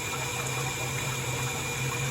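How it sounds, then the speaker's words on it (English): Hot and cold water rushing steadily into a top-loading washing machine during fill, a loud continuous flowing hiss with a low hum underneath, no speech. "the water, as you can hear, is flowing"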